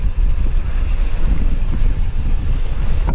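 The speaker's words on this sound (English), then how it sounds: "the wind's a bit cooler than I thought once I've got out here" Wind blowing across a boat moving at about 5.5 knots on a river near Kodiak, a steady loud rushing buffet of wind noise with low rumbling gusts, alone without talk.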